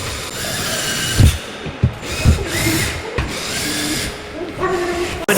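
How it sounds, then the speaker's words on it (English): Clips being bolted onto wall anchors for a flexible room divider track, heard as close, irregular mechanical clicks and ratcheting knocks from a hand tool over steady background noise, with several sharper thumps. "we're going to go ahead and bolt in the clips for the track."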